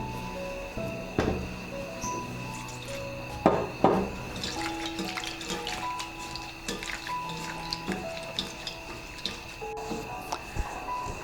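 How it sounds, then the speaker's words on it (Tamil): Neem leaves, avaram flowers and poolai flowers are washed in water, giving close soft drips, squishes and splashes with a few sharper knocks, all fairly quiet and irregular over a low steady background hum. "வேப்பந்தலை, ஆவாரம்பூ இலை, பூளைப்பூ, இந்த 3ஐயும் நல்லா கழுவி எடுத்துக்கலாம்."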